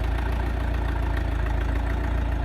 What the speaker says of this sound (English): I think I'm going to park the tractor